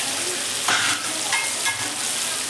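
Capsicum cut into squares, onion and thin strips of ginger fry in a kadai for kadai chicken, giving a steady close sizzle with a few louder stirring bursts and no talk.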